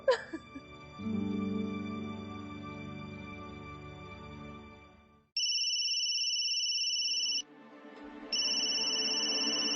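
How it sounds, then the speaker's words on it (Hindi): An electronic phone ringtone starts after a stretch of low droning music, two bright, steady tonal bursts ringing loudly with a short gap between them. "जैस्मिन का फोन"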